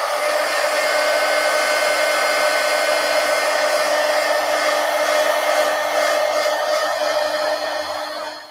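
A heat dryer blowing steadily on paint on a mixed media art piece, a loud constant whooshing hum held close to the mic for several seconds before it tapers at the end.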